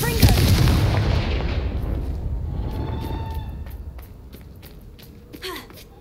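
Confringo fire spell blast in the video game Hogwarts Legacy: a loud, roaring explosion burst that rumbles and slowly fades over several seconds, followed by faint scattered crackles and a small thud.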